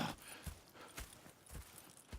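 Hooves clop in a steady, even walking rhythm, several soft thuds per second, fairly faint and close, from horses in the video game Red Dead Redemption 2.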